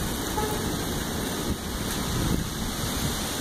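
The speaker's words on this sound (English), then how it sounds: "Now the rain starts." Steady rain hisses across the whole stretch as it starts during a summer thunderstorm in Fort Mill, South Carolina, with a gusty, rumbling low-end wash like wind and a distant storm behind it.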